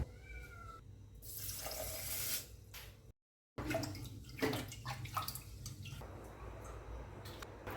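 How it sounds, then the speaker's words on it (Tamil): Water splashing and swishing in a pot as rice and lentils are rinsed, with a brief faucet run, a short gap, then more sloshing and clinks. "இப்போது இதை ஒரு மூணு தண்ணி கழுவி எடுத்துக்கலாம்"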